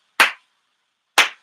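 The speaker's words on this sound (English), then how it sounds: "I'm gonna give you a Jason Garrett hand clap for that one, sir." Two sharp hand claps about a second apart, loud and close, with silence between them and no voices.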